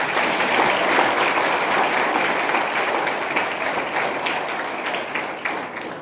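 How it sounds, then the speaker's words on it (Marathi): An audience at a student and parent gathering at a college claps loudly and continuously. The dense, even applause fades slightly toward the end, with no speech over it. "टाळ्या."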